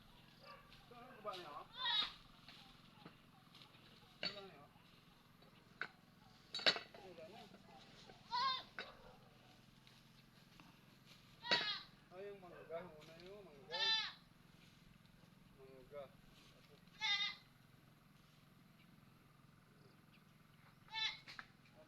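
Goats bleat at a rural provincial home, with about eight separate wavering calls spaced a few seconds apart over a quiet background.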